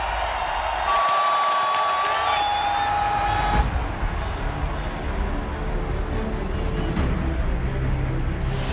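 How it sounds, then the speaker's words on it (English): A football stadium crowd roars steadily through the final seconds of a Saints–Panthers wild card playoff game, a loud, dense wash of cheering that swells briefly and sustains without a break. "Listen to this crowd."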